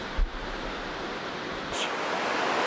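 Steady broadband rush of falling water from the 90-foot White Lady Waterfall in Lydford Gorge, Devon, a constant roar heard from nearby with one brief low thump near the start and the noise swelling slightly toward the end.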